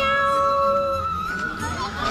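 A person imitates a cat's meow with a drawn-out, whining tone that bends in pitch, heard over busy outdoor crowd noise at Patna Zoo.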